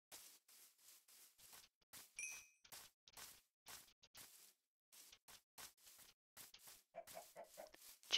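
Minecraft chickens cluck in short, repeated bursts throughout, a steady run of separate soft clucks at moderate loudness with brief gaps between them and no talking over the top.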